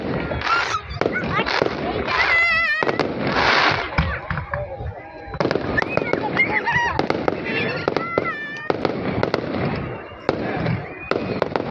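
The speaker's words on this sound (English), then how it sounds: "Oh, yes, he's got a fireworks." Repeated fireworks explode at a Mildura night show, with clustered crackling bursts, whistles and heavier booms in quick succession, alongside a short lull and onlookers exclaiming.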